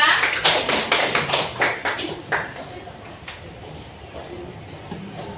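A small classroom group claps for the second student group, a quick, uneven burst of hand claps close by that thins and fades within about three seconds.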